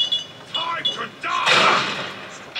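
A gunshot in the video game Fallout 3 lands as a heavy booming blast about midway, trailing into a rumbling decay over faint game ambience.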